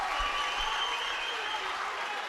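Crowd at a Vermont Division 3 high school basketball final, clapping and cheering in a packed gym, a steady wash of applause and shouts fairly loud throughout.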